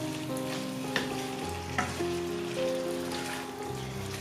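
Chopped green chillies stirred into potatoes frying in a hot pan for aloo bhujia, steady close sizzling with scraping spoon strokes and occasional clinks throughout.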